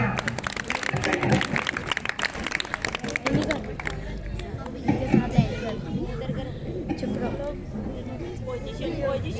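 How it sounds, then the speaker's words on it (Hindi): Crowd at a stage performance of a devotional dance applauds with scattered clapping amid chatter and loud voices, with bursts of rhythmic claps rising and thinning over several seconds. "सौम्या एंड वारिधि, जोरदार तालियां।"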